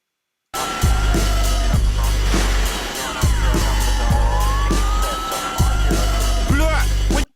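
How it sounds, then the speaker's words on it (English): Police siren wails and sweeps through a loud music track, with repeated heavy bass thumps beneath the rising and falling tones. "I can hear them sirens come in"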